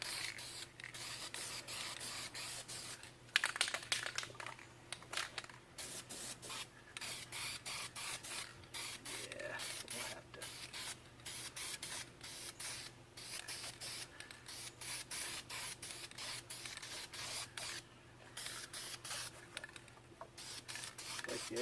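Duplicolor wheel paint sprayed from an aerosol can onto a work truck in light coats, heard as close, repeated hissing bursts of varying length separated by short pauses, with a faint low hum underneath.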